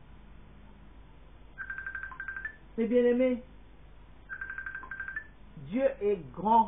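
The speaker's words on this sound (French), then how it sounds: "Ne suivez pas cette sonnerie." Electronic phone ringtone sounding in two short tonal bursts, with a preacher speaking loudly between and after them during a French church sermon.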